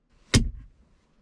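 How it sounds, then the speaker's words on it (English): A single short plastic thud of a stock 2012 Mustang GT's center console lid snapping shut, about 73 decibels, close by, with a brief rattle after and then quiet. "So let's measure the sound of that closing."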